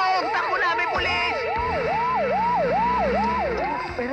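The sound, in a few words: police siren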